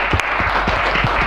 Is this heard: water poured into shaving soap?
no